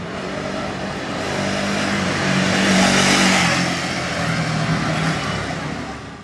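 A KTM Duke 250 motorcycle accelerates along a road, its engine note rising and swelling to a loud peak mid-way before easing off slightly, with a broad rush of wind and road noise.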